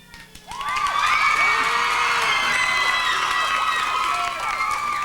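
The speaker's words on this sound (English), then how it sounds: "if you can see him, you give him a round of applause" A live concert audience of a 1997 intimate televised show roars with loud, sustained cheering, whoops and applause that swell after half a second and hold steady throughout.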